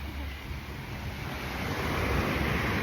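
Ocean surf washes onto a small secluded Thai beach between rocks, a steady broadband roar that swells slightly louder toward the end, with some wind buffeting the microphone.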